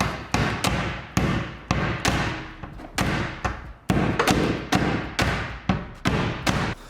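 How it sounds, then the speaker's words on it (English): Hammer blows land on a car engine part during an engine swap, about a dozen sharp, loud metallic strikes in an uneven rhythm, each ringing briefly before the next. "I'm hammering this shit."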